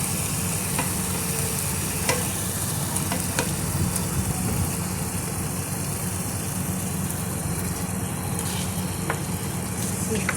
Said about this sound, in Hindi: अब इसमें हम सीख कबाब डालेंगे।